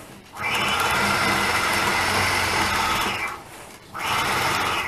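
A sewing machine doing custom machine quilting runs in a loud, steady, close whir, stops briefly near the end, then starts up again.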